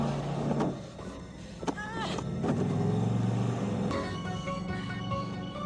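A truck engine runs steadily with a low rumble, joined by brief mechanical whines and clunks, fairly close and loud, in a Halloween horror film scene.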